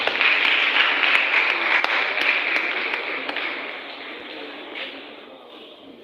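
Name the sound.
applause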